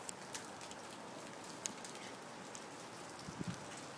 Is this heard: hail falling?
yes